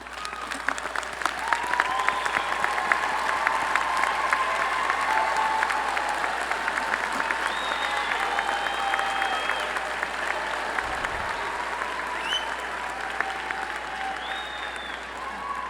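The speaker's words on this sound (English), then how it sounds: "Will the parents of our candidates please stand and receive our applause?" Sustained applause from a large commencement audience at a Lamar University College of Arts & Sciences ceremony, honoring graduates' parents; dense, steady clapping fills the hall throughout with a faint murmur beneath.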